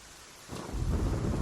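Rain falling steadily with thunder rolling in, a soft patter at first that swells into a louder, deeper rumble of the storm.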